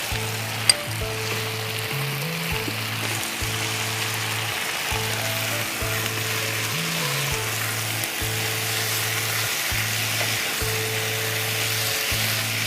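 Spring onion stalks go into a pan of frying chicken manchurian, giving a loud, steady sizzle that fills the whole stretch, with a pulsing low kitchen hum beneath and one brief click near the start.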